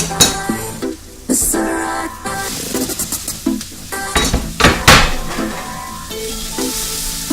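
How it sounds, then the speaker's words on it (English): Onions and peppers sizzle in a pan as a utensil stirs and scrapes them, with clanks of metal on the pan and bursts of louder frying hiss, close and busy, for sausage pepper linguine. "those onions are overcooking. You gotta stir those onions. Throw the peppers in."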